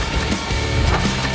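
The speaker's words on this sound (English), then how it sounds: "Bust a pumpkin with a baseball bat." A pumpkin is smashed with a baseball bat in the zombie DLC of the video game Far Cry 5, giving a loud, dense burst of wet, splintering crunches with no pauses.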